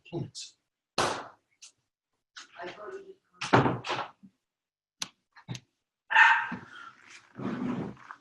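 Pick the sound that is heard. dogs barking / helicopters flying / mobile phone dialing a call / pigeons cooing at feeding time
dogs barking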